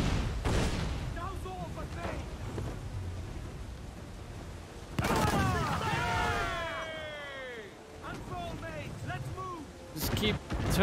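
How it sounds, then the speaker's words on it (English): Ship cannons firing in Assassin's Creed 4 Black Flag during a naval battle against a legendary ship, heavy booms arriving in bursts with a large blast around the middle, partly under a voice and game music tones. "Oh crap, they're gonna kill me with those stupid cannons"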